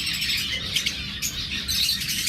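Violet opaline birds offered for sale chirp and tweet continuously, a dense overlapping chatter of several small birds held close and steady throughout, with no talking.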